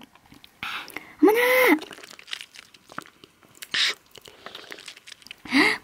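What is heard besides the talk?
eating a giant cola-bottle-shaped jelly through a straw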